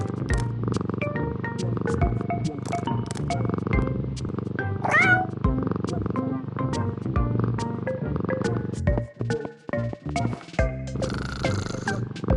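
A cartoon cat in a pet care video game lets out a rising meow and soft purring over bright, busy game music and chiming effects, with no one speaking.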